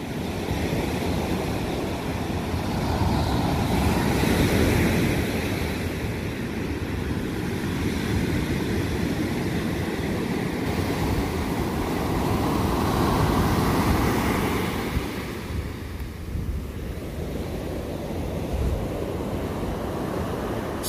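Atlantic ocean waves breaking on the beach at Sea Bright, New Jersey, a steady surf roar with rolling swells, mixed with gusty wind buffeting the microphone throughout.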